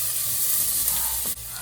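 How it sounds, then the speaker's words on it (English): Carrots tossed into a hot frying pan and stirred while cooking fried rice, giving a steady close sizzle with a brief clatter of stirring near the end; no one speaks. "So we just go ahead to throw in the carrot and just stir it around."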